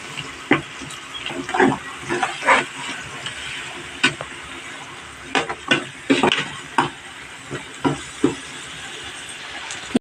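Ground masala paste frying in oil in a pan for a Telugu-style fish curry (chepala pulusu), with a steady sizzle under repeated sharp scrapes and clinks of a spoon stirring against the pan, close and moderately loud, no talking.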